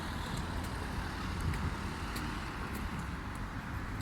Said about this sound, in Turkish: Araba geliyor oradan bekle.